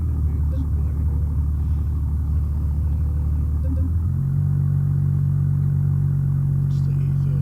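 A BMW E38 engine in BeamNG drone, a deep steady rumble that idles low, then shifts to a slightly higher, even note partway through, continuous and fairly loud throughout.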